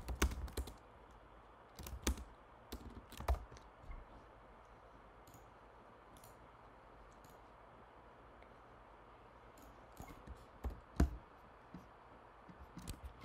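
Quiet computer keyboard typing of a terminal command in scattered bursts of sharp clicks, with a long lull of faint background hiss in the middle.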